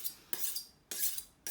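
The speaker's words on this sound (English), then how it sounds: "a few little goes on the steel to keep the edge in." A kitchen knife drawn along a sharpening steel gives three bright metallic scraping strokes in a steady rhythm, each a short rasping swipe, close and clear with no voices.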